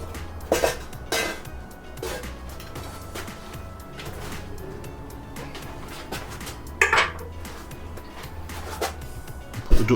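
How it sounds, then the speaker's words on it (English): Cast iron Dutch oven set down on lit charcoal briquettes outdoors, with a few sharp metallic clanks and scrapes over a steady low background rumble. "Put the Dutch oven on."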